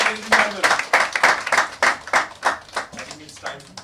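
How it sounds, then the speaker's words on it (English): Audience at a press conference with actor Irrfan Khan claps in loose bursts, close and fairly loud, with chatter and a voice mixed in among the clapping. "round of applause. Irfan Khan, ladies and gentlemen."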